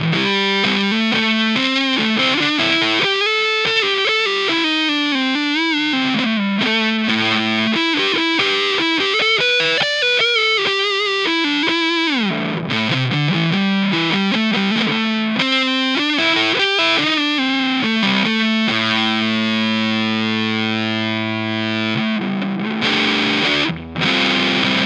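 An electric guitar on its neck pickup, a Fender Jazzmaster or Jaguar, plays loud distorted lead lines with bends and slides, ending in sustained strummed chords with a wavering effect, alone throughout.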